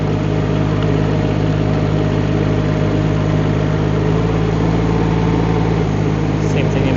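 A Rippa R18 mini excavator runs in high gear, its engine giving a steady, loud, close rumble with a vibrating drone throughout and no pauses.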